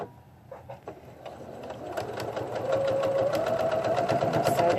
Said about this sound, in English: sew down that other strip now.